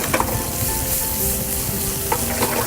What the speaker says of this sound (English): you're just gonna pretty much just stir them like scrambled eggs